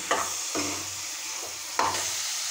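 Fried potatoes tipped into a pan of roselle leaves, giving a few soft scraping stirs and light sizzles spaced about a second apart over a low steady hiss.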